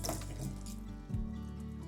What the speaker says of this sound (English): then I'm gonna wash it first, which is super important to take out the bitterness